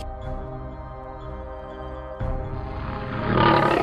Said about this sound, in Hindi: शेर की आवाज सुनकर उसकी आंख खुल गई